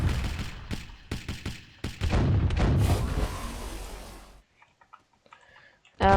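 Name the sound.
boat cannons firing in a video game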